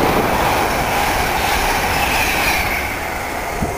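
A Class 90 electric locomotive, 90005, hauls a London-bound Mark III coach set through Needham Market Station at speed, a loud, steady roar of wheels and rail noise with a faint squeal throughout.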